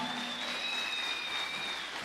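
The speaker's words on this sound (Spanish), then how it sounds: "Dale ese aplauso al Señor." A church congregation claps together in sustained applause, a dense, even patter of many hands filling the room, with a faint tone lingering underneath.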